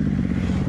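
Motorcycle passing close by on a race track, a loud, rough continuous engine roar with rattling texture, brief and without talking.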